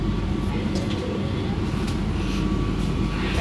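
Steady, dense rumble inside a moving Jayabaya economy-class passenger train, with constant wheel and carriage noise and a faint high hum, heard close and unbroken throughout.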